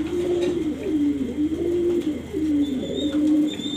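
A Silver Giribaz pigeon, nesting on hatching eggs, coos in a loud, close, continuous rolling murmur, with a faint higher chirp near the end.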